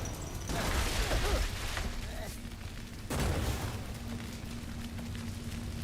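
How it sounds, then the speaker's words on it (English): Repeated explosions in the video game Oddworld Soulstorm, two heavy booming bursts with broadband crackle, the second starting about halfway through, over steady game background noise. "Oh man, so many explosions."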